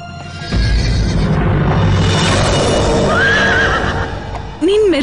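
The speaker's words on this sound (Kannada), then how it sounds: "ನಿನ್ ಮೆರವಣಿಗೆ ಕುದುರೆ ಬಂದ್ಬಿಡ್ತು, ಸುಂದರವಾಗಿದೆ ಅಲ್ವಾ?" A horse for a wedding procession lets out a loud, close whinny that rises and wavers, starting over a rumbling outdoor background with a brief rustle and hoof shuffle near the end.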